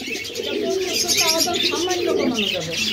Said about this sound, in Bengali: রানিং নর মডার্ন কবুতর হোয়াইট বারের মধ্যে।